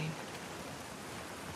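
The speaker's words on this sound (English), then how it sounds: "Let's get out of the rain." Rain falls in The Last of Us Part II as a steady, even hiss. The sound is moderately loud and continuous, with no clear individual drops.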